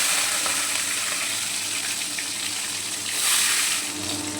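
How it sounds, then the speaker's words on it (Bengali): Pieces of fish fry in hot oil in a wok, giving a continuous, loud, close sizzle with a bright crackling hiss that swells briefly near the end. "কড়াইতে তেল দিয়ে দিলাম, তেল গরম হয়ে গেছে, এবার মাছগুলো দিয়ে দিচ্ছি"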